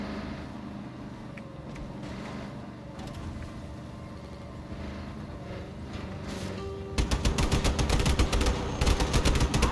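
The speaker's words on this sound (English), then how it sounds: "As long as it's them doing the shooting and not me" Allied gunners firing in the video game Just Cause 3: a low background rumble with scattered faint pops gives way near the end to loud, rapid bursts of automatic gunfire.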